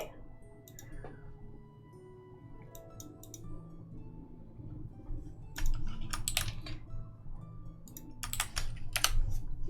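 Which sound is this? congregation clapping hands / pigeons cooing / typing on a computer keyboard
typing on a computer keyboard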